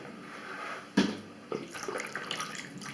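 A vacuum cleaner filter is washed by hand in lukewarm water, with soft running and sloshing water, a sharper splash near the start and further light splashes, close and fairly quiet.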